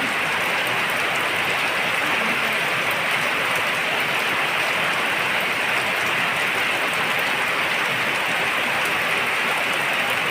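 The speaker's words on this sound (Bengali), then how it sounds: "কীভাবে বৃষ্টি নামছে" Rain falls heavily and steadily as a dense, even hiss of drops on surfaces, continuous and close with no voices.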